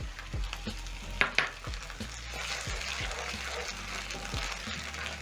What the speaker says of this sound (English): Toss the sauce around together with the green onions and garlic.